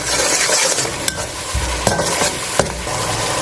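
Ground spices such as red chilli, coriander powder and crushed red chilli being stirred through a hot pan for a rice dish: a loud, continuous frying sizzle broken by a few sharp scrapes and knocks of a spoon against the pan, with no talking.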